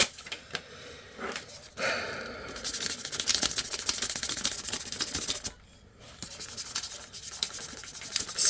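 Blank paper rubbed back and forth over silver Rub 'n Buff wax on a finger piece of costume armour, a close, dry scratchy scrubbing in irregular strokes with a short pause, heard alone.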